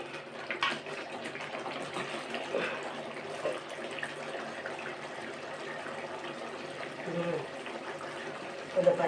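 Tamarind water being poured into a pan of tomato rice in a home kitchen, a steady liquid pour and splash running for several seconds under faint background sound.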